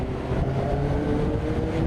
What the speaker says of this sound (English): What was that? Was that a C63 AMG?